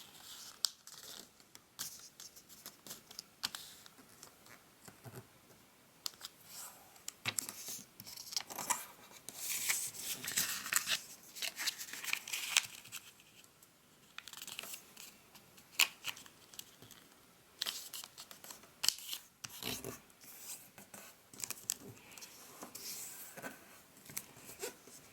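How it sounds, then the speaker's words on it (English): Paper being folded into a traditional origami tie makes soft crinkles, creases and brushing rustles at close range, scattered irregularly through a quiet stretch with no talk. "we're going to fold two of the edges on opposite sides to the center line."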